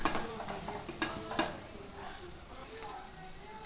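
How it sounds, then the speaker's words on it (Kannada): Onion and tomato fry in a pan while a spoon scrapes and stirs, giving close, soft sizzling broken by a few sharp metallic clinks early on, then a quieter, steady hiss. "ಈರುಳ್ಳಿ ಅದನ್ನು ಕೂಡ ಸ್ವಲ್ಪ ಫ್ರೈ ಮಾಡಿಕೊಂಡು ಹಾಗೆ ಟೊಮೊಟೊ ಕೂಡ ಸೇರಿಸ್ಕೊಳ್ತಾ ಇದ್ದೀನಿ"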